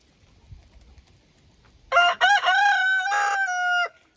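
A rooster crows once at a backyard chicken coop, a loud, close cock-a-doodle-doo of about two seconds after quiet rustling and faint clucking from the hens.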